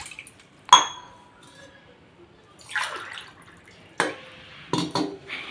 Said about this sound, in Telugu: ఇప్పుడు నేను 3 గ్లాసెస్ పోసేసాను